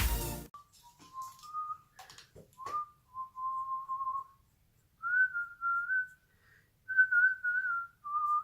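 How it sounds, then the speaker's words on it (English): A person whistles a melody alone in a quiet room, with clear tonal phrases rising and falling and short pauses between them, following a brief burst of noise at the start. "just whistling to myself"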